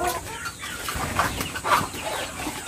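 Short clucking calls from a chicken, a few soft bursts over steady background noise, fairly close.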